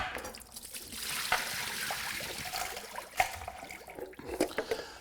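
Cooking water drained off a pot of freshly steamed clams in a home kitchen, a soft trickling and splashing pour with a few sharper clanks and drips toward the end.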